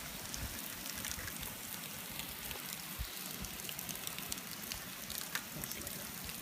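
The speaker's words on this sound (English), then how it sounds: "That's like an absolute downpour." Dense, continuous patter of heavy water spray like a downpour drumming on a VW T5 van's window, moderately loud and unbroken, with no talking.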